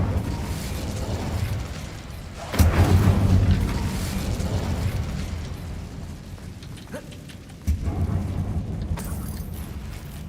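A fire spell is cast in the Hogwarts Legacy video game inside a dark mine tomb, giving two loud whooshing bursts of flame over a rumbling game ambience.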